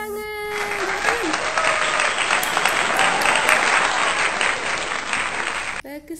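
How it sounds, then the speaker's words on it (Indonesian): Steady, loud applause from a crowd for a child's Lego robot, continuous for several seconds after a brief moment of talk at the start, then stopping abruptly. "Beri tepuk tangan."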